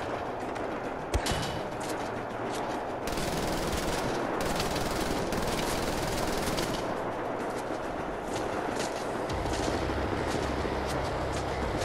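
Rapid automatic gunfire from the video game Wolfenstein: The New Order rattles on almost without pause, dense and steady, with one sharper shot standing out near the start.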